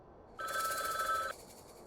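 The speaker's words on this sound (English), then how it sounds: "This is a random phone on the street. Why did you assume it's ringing for you?" A public street phone rings in the game Frog Detective 3, giving one clear electronic bell trill that starts abruptly, lasts just under a second and stops, heard alone against quiet background.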